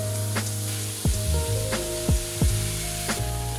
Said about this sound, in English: So we're going to start off by frying off the mince.